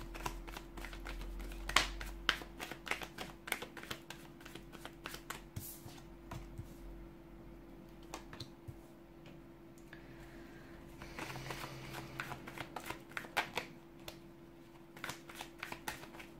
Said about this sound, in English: give the cards a shuffle and begin.